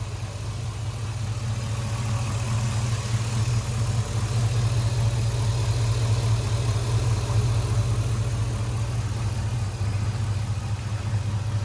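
A 1955 shop truck engine runs at a steady idle throughout, a loud continuous low rumble close by with no talking.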